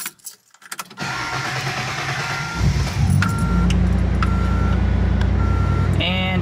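A Datsun Z car engine fitted with an electronic distributor cranks and catches around three seconds in, then settles into a steady idle, with a few short electronic beeps chiming over the running motor.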